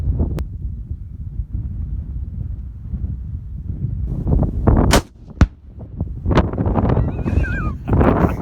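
A single rifle shot cracks sharply at a 32-gallon trash can loaded with 6 pounds of tannerite, with heavy wind buffeting the microphone before and after the report.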